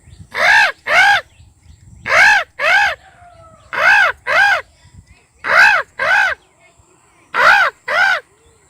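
A man imitates a crow's caw with his voice, giving five pairs of harsh, nasal caws in a steady rhythm, loud and close, with short quiet gaps between each pair.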